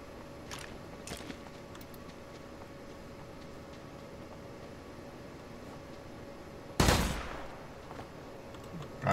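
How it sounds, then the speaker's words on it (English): Faint distant pops and a single sharp gunshot burst in Rings of Elysium, with a brief echoing tail; otherwise quiet background hiss. "Gunshots"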